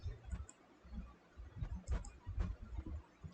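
Typing on a computer keyboard, with quick uneven clicks and taps of the keys close to the mic over a low background hum.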